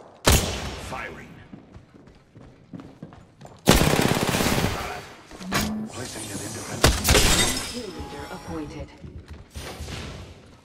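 Gunfire in the video game Apex Legends: several loud bursts of rapid shots with sharp, shattering impacts, spread across the clip amid other game noise and a voice talking over it.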